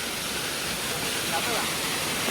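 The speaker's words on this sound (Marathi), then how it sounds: "बघा छोटा धबधबा" A small waterfall on a hill climb pours in a steady, broadband rush of falling water that holds even and loud throughout, with no break.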